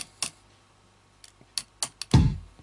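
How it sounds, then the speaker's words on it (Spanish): Drumsticks strike a computer keyboard: several sharp, scattered clicks and taps on hard plastic keys, sparse and irregular, ending with a heavier thud that rings briefly. "Si yo ocupo las baquetas sobre mi teclado y golpeo el número 1"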